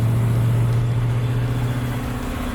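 A 1966 Ford F250 4x4 truck engine runs steadily in fourth gear at about 2,000 RPM, a loud, continuous low drone with a strong steady hum, close and alone without talk.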